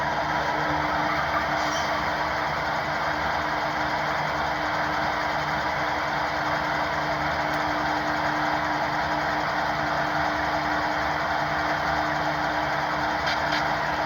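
Diesel idle from an Intermountain HO-scale ES44AC model locomotive's sound decoder: a steady, continuous engine rumble with a faint hum, holding an even level throughout with no talking.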